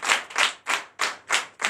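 A church congregation at a Sunday worship service in Benin claps in unison, six loud rhythmic bursts evenly spaced about a third of a second apart, with no talk over them.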